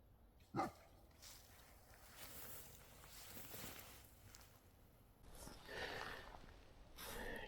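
A dog barks once, short and fairly close, beside a misty pond in light rain, with soft outdoor ambience and faint background noise before and after.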